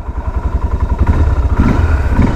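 A GA200 ATV engine starts up after its ignition button is pressed and settles into a loud, close, rapidly pulsing idle rumble that grows slightly heavier partway through.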